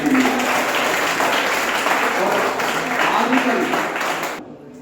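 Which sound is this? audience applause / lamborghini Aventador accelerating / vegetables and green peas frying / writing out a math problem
audience applause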